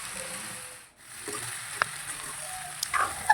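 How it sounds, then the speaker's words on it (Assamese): Duck meat sizzles in a hot pan, a steady soft frying hiss with a brief dip and a few sharp clinks of stirring near the end, fairly quiet and without talk. "এতিয়া ধুনীয়াকৈ মই এইখিনি অলপমান টাইম ভাজি ল'ম।"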